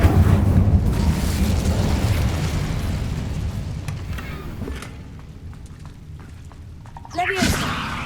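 Incendio fire spell cast in Hogwarts Legacy, a loud roaring burst of flame that fades slowly over several seconds, followed by a shorter second whoosh near the end.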